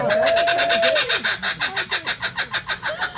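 A kookaburra calls at a wildlife sanctuary. After a drawn-out opening note comes a loud, close run of rhythmic cackling pulses that quicken toward the end.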